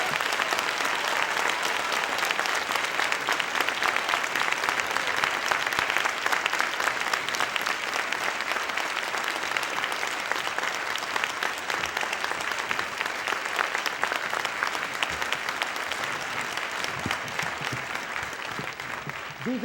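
Audience applause fills a spring high school band concert, a dense, steady roar of many hands clapping that lasts about twenty seconds, tapering slightly near the end with faint voices mixed in.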